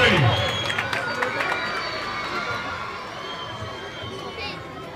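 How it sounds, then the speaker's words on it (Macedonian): A festive audience breaks into spontaneous applause, with an opening burst of clapping and cheering that settles into a steady crowd murmur. "Спонтан аплауз!"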